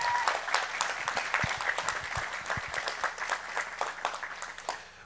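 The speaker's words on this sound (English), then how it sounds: "She deserves a special round of applause as well." A church congregation applauds, a steady wash of many hands clapping that holds for several seconds with no voices over it.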